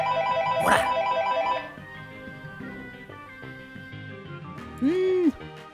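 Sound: telephone ringing

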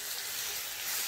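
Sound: dal being stir-fried in a pan, sizzling

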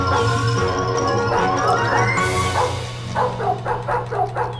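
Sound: herding dog barking at pigs

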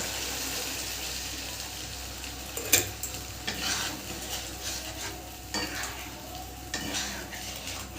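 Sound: water added to frying spice paste for pabda fish curry

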